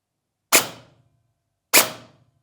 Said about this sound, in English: let's see how a bad sounding replica sounds